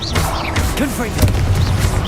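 In the Hogwarts Legacy game, a Confringo fire spell lands as loud, dull booming blasts with crashing bursts, mixed with a short vocal cry from a character.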